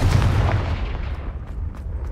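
A Confringo fire spell explodes in Hogwarts Legacy with a heavy booming blast and a rumbling decay that fades over about two seconds, loud and alone.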